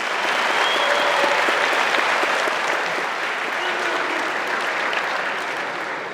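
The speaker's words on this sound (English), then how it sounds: "Applause." Dense, steady applause from a crowd after a grappling match in Saint Petersburg won by a choke, sustained and loud throughout with no break.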